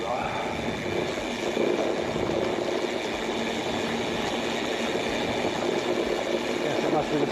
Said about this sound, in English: Coming in here in a tractor though